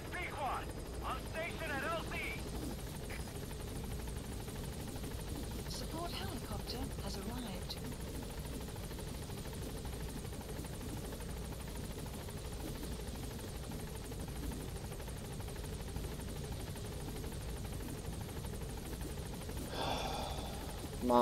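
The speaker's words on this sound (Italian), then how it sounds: "vuole scendere questo cavolo di elicottero oppure dobbiamo aspettare 3 anni?" A helicopter arrives in Metal Gear Solid 5, its rotors giving a steady loud whirring drone that fills the whole stretch, with brief game sounds layered on top.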